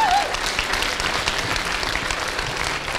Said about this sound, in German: Ich glaube, das wäre ein klitzekleinen Applaus wert